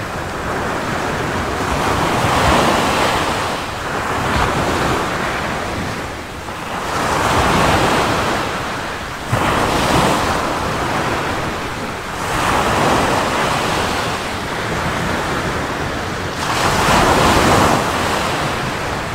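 Ocean waves break on a beach in steady, loud surges that rise and fall every few seconds, with a constant wash of surf and some wind noise and no voices.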